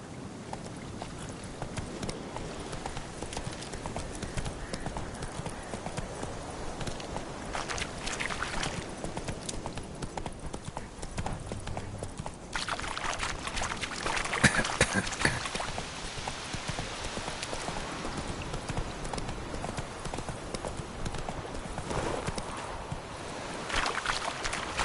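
Horse hooves clip-clop in The Witcher 3, a continuous patter of steps mixed with a broad rushing ambience that swells midway, all fairly soft with no talk.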